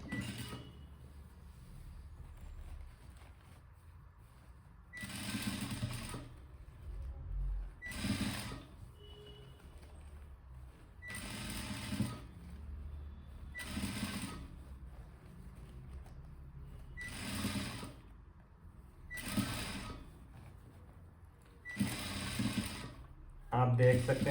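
A sewing machine stitches a Madhubala-style blouse in short, regularly spaced bursts, close by, with a voice talking between and over the runs.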